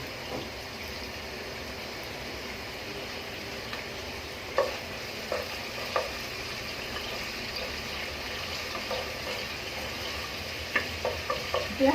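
Onions frying in oil with cinnamon, cardamom and cloves for chicken biryani, a continuous close sizzle with occasional clinks and scrapes of stirring, no talking.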